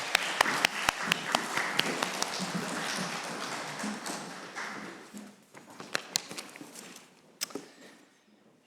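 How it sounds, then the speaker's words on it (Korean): A church congregation applauds during a Sunday morning service at an air force base chapel. Sharp, sparse claps spread through the room with a denser burst early on, then thin out to scattered individual claps. "우리 하나님께 영광의 박수 올려드리겠습니다"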